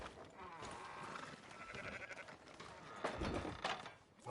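Sheep bleating in the video game Red Dead Redemption 2, several wavering bleats over a steady outdoor ambience, fairly close, with a louder cluster of calls near the end.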